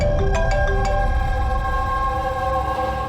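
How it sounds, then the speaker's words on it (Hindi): A phone rings with a steady electronic ringtone, a sustained tonal melody with a few brief accent notes, loud and alone in a tense indoor scene. "डॉक्टर सालुंके का फोन था।"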